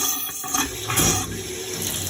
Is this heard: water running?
yes